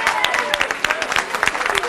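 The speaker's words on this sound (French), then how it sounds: "Vous pouvez vous applaudir." A live audience at a musical battle event applauds itself in its role as the jury, with brief bursts of clapping mixed with voices and chatter over about two seconds.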